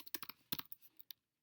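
Someone types on a computer keyboard while entering an Excel spreadsheet function, making a quick, quiet burst of about a dozen close clicking keystrokes that ends in silence.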